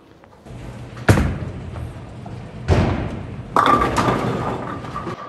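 A Motiv Nemesis pearl bowling ball rolls down the lane and crashes into the pins, then a second loud crash follows a moment later, with a sharp clatter near the end, all close and without speech.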